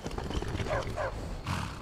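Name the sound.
horse neighing and hooves in video game Skyrim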